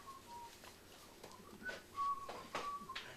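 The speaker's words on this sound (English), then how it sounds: "You're whistling." A person whistles a short, wandering tune of thin clear notes, fairly faint, in a quiet room, with a few soft knocks and clinks of a glass nearby.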